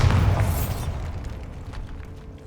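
A Bombarda spell explodes in Hogwarts Legacy, a loud deep boom at the start that rumbles and slowly fades into debris and echoing decay.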